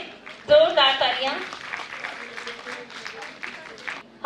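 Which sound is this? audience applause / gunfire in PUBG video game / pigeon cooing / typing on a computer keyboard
audience applause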